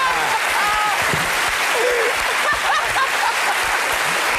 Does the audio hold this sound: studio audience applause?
yes